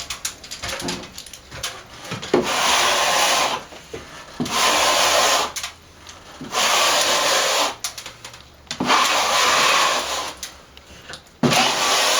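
A scraper drags across a fresh plaster coat on a ceiling during a repair where a ventilator used to be, in several long rasping strokes separated by short pauses, close and fairly loud with nobody talking.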